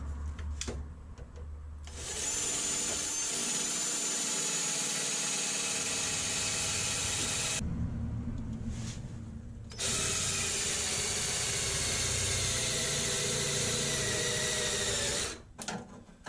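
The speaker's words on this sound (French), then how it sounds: "Donc on va juste un peu forer les points." A drill bores out spot welds on the rocker panel of an Alfa Romeo 156 2.5 V6 in two long, steady grinding runs, separated by a short pause and ending with a few clanks.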